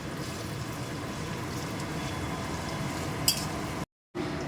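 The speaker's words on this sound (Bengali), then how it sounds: "পেঁয়াজগুলো বেশ ভালো করে ভাজা ভাজা করে নেব।" Chopped onions frying in hot oil with whole garam masala spices for a chicken and kabuli chickpea ghugni, giving a steady, dense sizzle that runs unbroken, with a brief clink and a short drop-out near the end.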